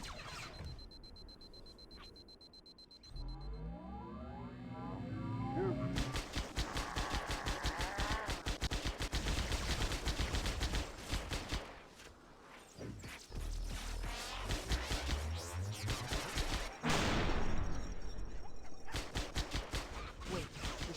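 Rapid gunfire from human weapons used by Covenant enemies in the Halo SPV3 video game, dense bursts of shots crackling over game music and effects for most of the stretch, loud and near with brief lulls.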